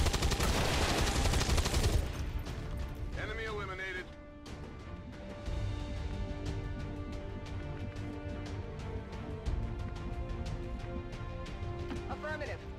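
Bursts of turret gunfire crackle in the Long War 2 strategy game, dense rapid shots at first, then fainter scattered battle noise and game effects underneath.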